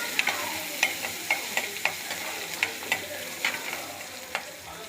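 Onions and a couple of slit green chilies sauté in a kadai over tempered mustard seeds, urad dal, fenugreek and asafoetida, with a steady sizzle punctuated by repeated sharp ladle scrapes and taps at a loose rhythm.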